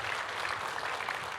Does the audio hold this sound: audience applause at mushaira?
yes